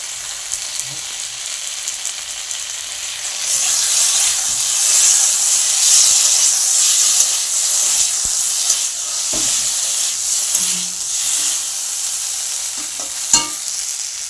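Eggplant slices fry in a pan as a steady, dense sizzle, growing louder partway through, with occasional clinks of a utensil.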